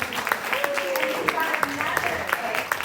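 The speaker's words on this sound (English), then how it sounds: "That better be a round of applause for that." An audience claps at a cake auction before a drag show, a short burst of applause with scattered cheers and voices talking over it.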